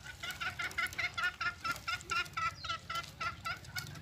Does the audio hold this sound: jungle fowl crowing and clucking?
yes